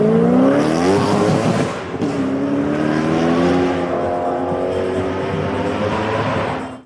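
A Koenigsegg CCX-R, a rare car limited to four units, accelerates hard in Forza Horizon. Its loud engine note climbs steadily, drops briefly at a gear change, then rises again and holds strong before cutting off.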